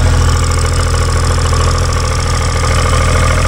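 An outboard boat engine runs steadily after a freshwater flush, left to warm up; the motor drones loud and close with a constant rumbling, slightly knocking idle and no talk.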